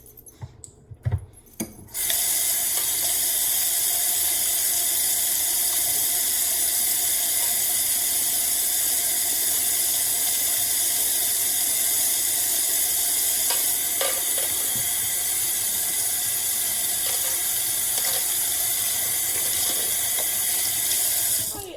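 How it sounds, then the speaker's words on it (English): A tap runs steadily as hands are washed with antibacterial soap, a continuous close hiss of flowing water lasting about twenty seconds after brief handling noises at the start. "So I will now wash my hands for 20 seconds with antibacterial soap."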